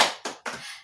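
Children in a classroom perform a rhythmic spirit clap, three quick bursts of hand claps with a short pause between each, close and moderately loud.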